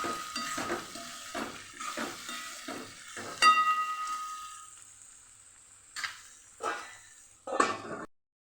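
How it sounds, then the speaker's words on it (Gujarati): Capsicum being stirred into vegetable poha in a frying pan, with a run of close, rhythmic spatula scrapes and clinks over a soft sizzle, then a pause and a few sharper pan knocks near the end. "આમાં આપણે કેપ્સિકમ ઉમેરી દઈશું હવે અને એ પણ સરસ મિક્સ કરી દઈશું"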